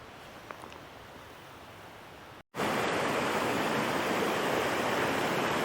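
A rocky mountain creek in North Carolina rushes in a steady, broadband wash of flowing water, quieter at first and then louder and fuller after a brief cut to silence.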